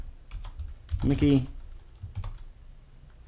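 A file name is typed on a computer keyboard. A few quick, close key taps come at the start, then a short pause while a voice speaks, then a handful more light taps.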